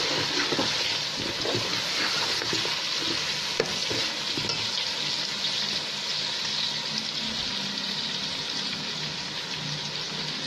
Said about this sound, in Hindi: 2 बड़े साइज़ के टमाटर हैं, ज़्यादा बड़े भी नहीं, दरमियाने साइज़ के टमाटर ये डाल दूँगी मैंने।